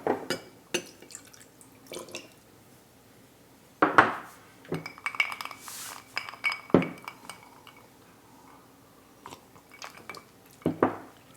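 Ice cubes clink and knock against a glass of bourbon in a few sharp, separate bursts with quiet gaps between them, close and fairly soft.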